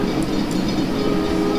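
A model train runs continuously on a model railroad layout, giving a steady, close rumbling whir with faint rhythmic clicking and no pauses.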